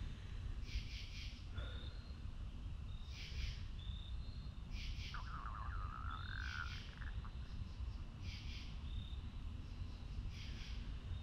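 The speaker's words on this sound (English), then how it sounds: "We've got crickets, a couple of different birds." In a New England woodland, crickets and a few different birds call faintly over a soft background hiss. Short chirping bursts repeat at regular intervals, with one warbling birdsong phrase partway through.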